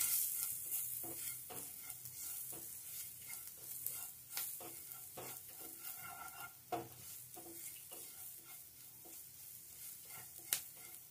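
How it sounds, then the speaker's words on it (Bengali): Spices fry in a pan while being stirred, making a soft sizzle under frequent scraping and clinking strokes of a spoon against the pan, with one sharper knock near the end and no talking. "এবার সমস্ত কিছু মশলাকে আবারও নেড়ে চেড়ে একটু ভেজে নিতে হবে।"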